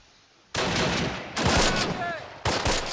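Bursts of machine-gun fire from MG42s in the World War II strategy game Close Combat: Last Stand Arnhem: three loud, dense rattling volleys, each a sustained crackle, with brief gaps between them.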